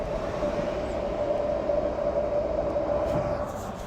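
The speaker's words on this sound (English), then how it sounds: "the little fan is spinning already" The cooling fan of an NVX 2700.1 car amplifier makes a steady whirring drone with a constant tonal hum, continuous and fairly close; no talking.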